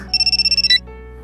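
A phone ringtone in a visual novel game, The Labyrinth of Grisaia, rings as a rapid, evenly pulsed electronic trill of about ten beats. It ends on a brighter tone over soft game music.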